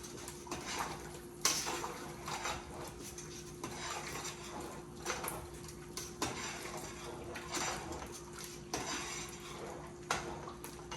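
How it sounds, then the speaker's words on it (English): A spoon stirs vegetable soup stock with carrot in a pot, producing repeated close scraping and clinking against the metal in an uneven rhythm, with faint liquid sloshing underneath and no speech. "Then I'm going to stir this."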